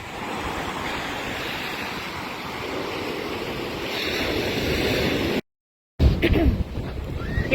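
Strong wind and ocean surf at Cocoa Beach Pier make a steady, loud roar of breaking waves and gusting wind noise, cut by a brief dropout to silence before the roar resumes.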